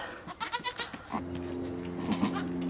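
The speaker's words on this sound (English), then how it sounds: "Silly baby goats." Newborn baby goats bleat close by on a farm during kidding, with one sustained, wavering bleat following a few fainter, shorter sounds.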